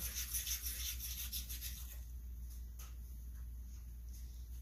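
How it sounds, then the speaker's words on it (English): A phenolic block rubbed back and forth over a saw file, giving a close, steady gritty rasping that eases into quieter scraping. "We're gonna take the phenolic block. We're just gonna rub it on the file just a little bit."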